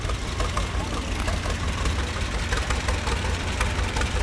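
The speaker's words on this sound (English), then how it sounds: "This is a John Deere GP 1930 that my husband has gone through the engine on." A 1930 John Deere GP tractor with a rebuilt engine runs nearby, its low, uneven knocking idle continuing steadily beneath a voice.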